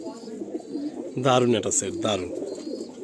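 Teddy Kamagar Kasuri pigeons coo softly and steadily in the background while someone speaks over them at close range.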